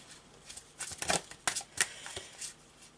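Oracle cards being shuffled by hand before one is drawn: a close, soft run of papery riffles and flicks in quick uneven bursts, with no voice.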